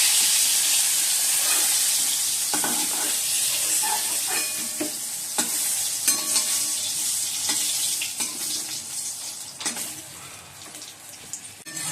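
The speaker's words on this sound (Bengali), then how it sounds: "এই যে বললাম, মশলাটা কষাচ্ছে এখন।" Spice paste for a soybean and potato curry fries in a pan with a steady loud sizzle and hiss, while a spoon scrapes and taps through it now and then.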